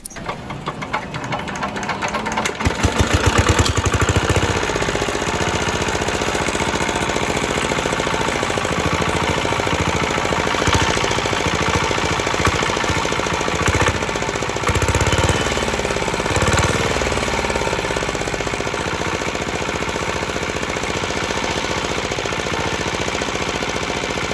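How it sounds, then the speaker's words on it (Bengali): An old second-hand CD R170 water lifting engine starts with a few rough bursts, then runs continuously with a loud, fast, rattling knock that stays steady and close for the rest of the stretch. "আগে আপনাদেরকে স্টার্ট করে ইঞ্জিন সাউন্ড কোয়ালিটি শোনাই কি অবস্থায় আছে"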